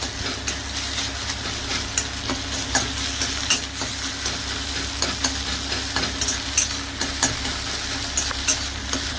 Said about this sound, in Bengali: ফাটা ডিমটা এবার আমি ভেজে নেব। এবার এটাকে ভেজে নিচ্ছি।